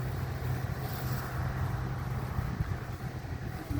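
A 30-year-old combine harvester works through a barley field, its engine and machinery giving a steady low rumbling drone with rushing wind noise throughout and no speech.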